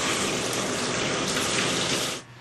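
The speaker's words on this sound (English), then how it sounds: "First, we fill the tub with water." A bathtub fills with water from the tap in a steady, loud rushing gush that stops abruptly near the end, heard close without any talk.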